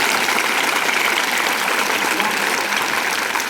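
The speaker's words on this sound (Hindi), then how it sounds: "जरा ताली बजा के दिखाओ कैसा ताली बजा रहे हैं।" Schoolchildren at a school gathering clap loudly and continuously, a dense, steady wash of many hands close by filling the whole stretch.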